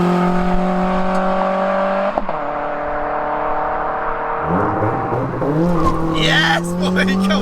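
A turbocharged 1-litre Nissan Micra accelerating hard, its engine droning loudly and rising steadily in pitch through a long gear, with a gear change around the middle and excited voices in the cabin over it.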